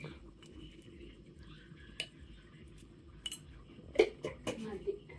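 Utensil scraping and clinking against a pot while food is mixed, with scattered metallic taps growing sharper near the end over a low background murmur.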